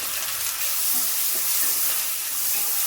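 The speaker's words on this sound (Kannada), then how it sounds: "ಇದನ್ನು ಎಣ್ಣೆಯಲ್ಲಿ ಚೆನ್ನಾಗಿ ಫ್ರೈ ಮಾಡ್ಕೊಳ್ತೀನಿ" Vegetables fry in oil for semiya upma, giving a steady broadband hiss and sizzle that holds evenly throughout with no talking.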